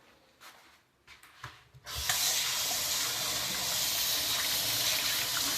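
Water runs from a kitchen tap as a stove part is rinsed under it, starting abruptly after a couple of seconds of quiet handling noise and then pouring steadily and fairly loudly to the end.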